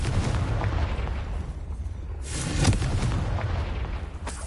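A Confringo explosion spell in the Hogwarts Legacy video game goes off as a dense, booming burst over a steady rumbling game soundscape, swelling around the middle, with no talk.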